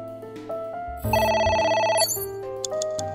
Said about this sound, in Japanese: 電話だぞ、取るか。